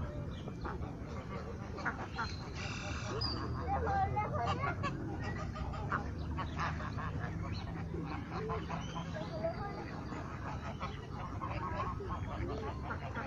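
Ducks quacking in an ecological park, a busy chorus of fowl calls with repeated honks and quacks at moderate distance over outdoor ambience, with people talking nearby.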